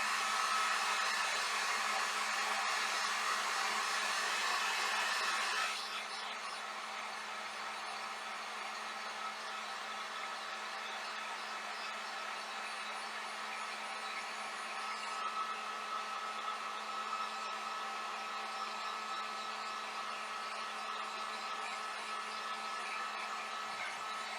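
A hair dryer blows steadily and loudly on fresh Barbie pink paint on a Barbie trunk, a continuous whooshing roar that shifts slightly in tone partway through, with no talking.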